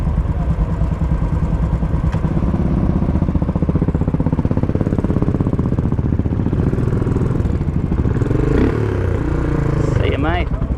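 Royal Enfield Continental GT motorcycle engine running steadily up close, a single-cylinder chug with a brief rising rev near the end, under a voice talking nearby.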